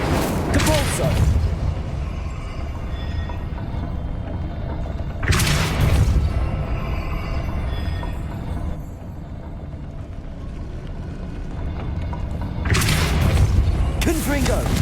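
The Confringo explosion spell goes off in Hogwarts Legacy, with three loud, heavy booms spaced several seconds apart and a low rumble between them.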